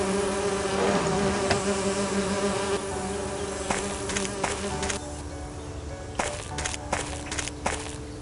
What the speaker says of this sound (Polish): i tutaj mamy pasiekę os i też w jakiś sposób by się musieli te osy wybawić